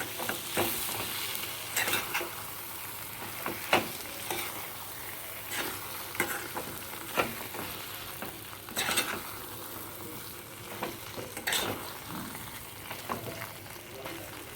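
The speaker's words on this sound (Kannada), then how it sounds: "ಇದಕ್ಕೆ ಒಂದು ಸ್ವಲ್ಪ ಬೆಲ್ಲ ಹಾಕ್ತಾಯಿದ್ದೀನಿ ನೆಕ್ಸ್ಟು ಒಂದೊಳ್ಳೆ ಮಿಕ್ಸಪ್ ಮಾಡೋಣ" Elephant foot yam palya with jaggery stirred in a pan, rhythmic spatula scrapes repeating every second or so over a low sizzle, with faint talk underneath.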